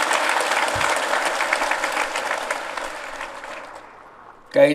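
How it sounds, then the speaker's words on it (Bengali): Applause from an audience honoring award recipients with medals at a fish-related ceremony, a dense steady clapping that slowly thins and fades over several seconds before a brief burst of other sound at the end. "সবাই মিলে হাততালি"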